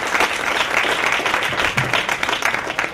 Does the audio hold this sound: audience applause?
yes